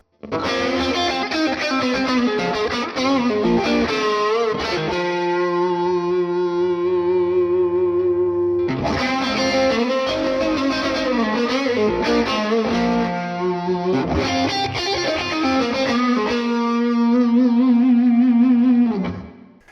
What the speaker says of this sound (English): this is one of the coolest features in the program, and it's the doubler feature